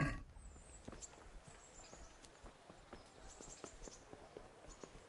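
A horse in the medieval game Kingdom Come: Deliverance walks with steady, soft clip-clop hoofbeats. Occasional snorts and faint outdoor ambience sit under the hooves, all fairly quiet.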